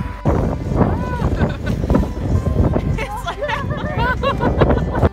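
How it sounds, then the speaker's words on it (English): Strong wind buffets the microphone with a steady low rumble at a campsite, while voices murmur underneath throughout. "So windy."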